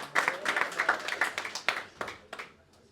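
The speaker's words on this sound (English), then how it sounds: "Can we have a big round of applause for him" Audience applause at an annual awards ceremony, a short burst of close, crisp hand claps that thins out and fades over a few seconds.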